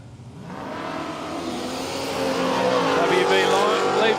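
A drag racing car launches hard off the line at a road trip drag challenge, its engine roaring louder and climbing in revs as it pulls away, with a commentator talking over it.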